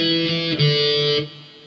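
A distorted electric guitar plays the closing notes of an intro: one sustained, buzzing note slides into a second held note that rings and then fades, with no voices.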